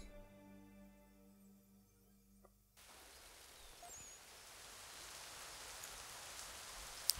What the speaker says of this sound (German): Wie es regnet, habe ich den Eindruck.